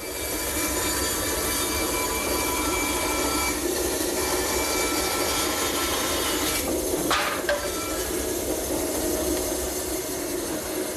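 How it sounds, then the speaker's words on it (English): A router or cutter on a circle-cutting jig runs continuously while a wood blank is spun to cut a round tabletop, a loud steady whine with a brief change in tone near the middle. "we should be able to just spin it around and cut the circle"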